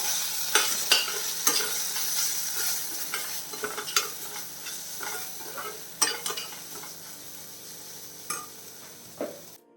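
Spice powders cooking in a pan for a raw jackfruit dish make a low, dry sizzle, with repeated close spoon scrapes and clinks as they are stirred throughout.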